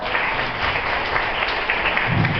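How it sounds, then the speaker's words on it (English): An audience at a youth leadership session applauds, a steady even wash of clapping from a crowd, moderately close. "Give him a round of applause."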